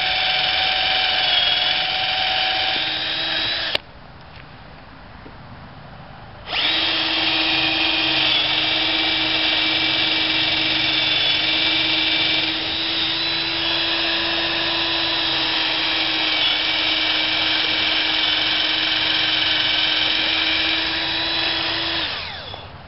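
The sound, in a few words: power drill drilling through wood board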